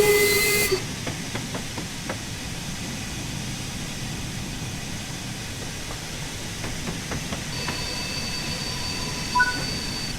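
A simulated LMS Stanier Class 8F steam locomotive in Train Sim World chuffs and hisses steadily, with a brief whistle at the start and a few clanks as it gathers pace.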